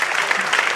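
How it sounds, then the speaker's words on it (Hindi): Applause from an audience at an annual awards program in Mumbai as students receive medals, a steady dense clapping held throughout a brief stretch. "तालियां बजती रहनी चाहिए"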